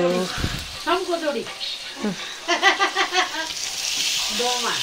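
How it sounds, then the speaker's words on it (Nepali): Chicken pieces frying with tomatoes in a hot pan, a steady close sizzle with stirring scrapes, while someone talks over it throughout. "टमाटर मजाले पाक्दैछ हैन अब चाहिँ चिकन लगाइदिन्दैछु"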